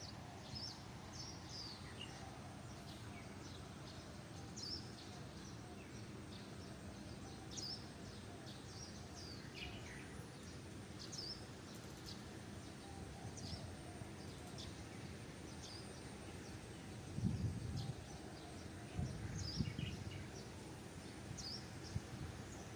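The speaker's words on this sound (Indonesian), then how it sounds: "Wah, ada burungnya cerecet-cerecet." Small birds chirp faintly under a banyan tree, with sparse high tweets scattered over a quiet, rustling outdoor background and a brief louder disturbance near the end.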